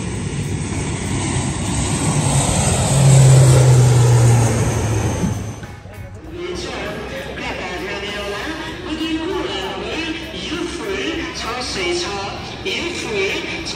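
Propeller airplane engine at an airport in Pokhara, Nepal, roars loudly and steadily at first, then drops away abruptly while people talk nearby over a lower background hum.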